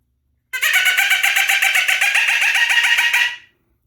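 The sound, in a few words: pileated woodpecker call imitation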